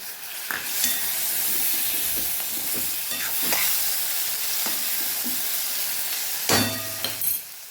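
Chopped tomato stirred into a frying okra curry, Kathiyawadi style, giving a steady sizzle broken by several scraping, clacking spoon strokes against the pan, close and fairly loud.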